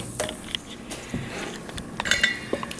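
Green bean casserole ingredients with bacon being stirred in a dish: scattered, light clinks and scrapes of a utensil against the dish, fairly close, with no talking.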